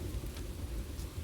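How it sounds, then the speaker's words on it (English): Rain falls at night in a dense, steady wash of soft patter, quiet and continuous, with a low rumble underneath and no voices. "It is a dark and rainy night. Not very stormy, but it is raining."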